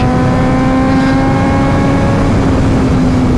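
A Suzuki GSX-R 600 sport bike at wide open throttle, its engine a loud, close, steady high-revving howl with a sustained tonal whine and wind roar throughout.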